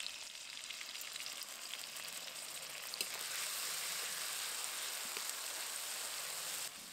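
Raw mango pieces frying in a pan with mustard and green chilli paste, a steady close hissing sizzle that swells slightly midway and holds evenly, with faint scattered ticks of spattering oil.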